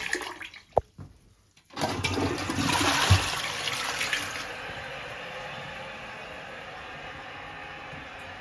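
A toilet in a rental house flushes with a sharp click of the handle, then a loud rushing gush of water that settles into a steady, quieter hiss of the cistern refilling, close by with no talk.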